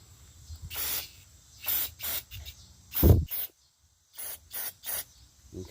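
Several short hissing sprays of cleaner onto a Yardforce 21-inch self-propelled lawn mower's carburetor, close up in bursts with brief pauses between them; one longer, stronger spray in the middle.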